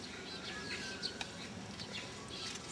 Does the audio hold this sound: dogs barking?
no